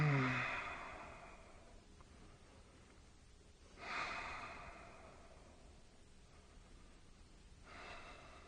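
Slow, soft exhalations during a seated hatha yoga twist, a few faint breaths spaced several seconds apart in a quiet room.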